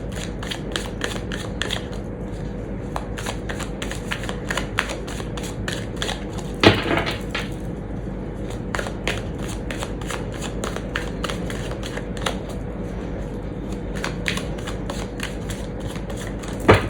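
Tarot cards are shuffled up close, making quiet, repeated crisp riffling clicks and flicks in an uneven rhythm, with a few sharper snaps and no talking.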